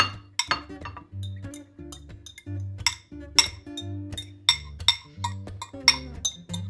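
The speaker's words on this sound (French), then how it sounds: "On va mélanger." Mashed potatoes being stirred with tuna, onion and garlic in a bowl for tuna croquettes, a rapid rhythmic run of sharp clinks and taps of utensil against the dish, close and fairly loud, no talk.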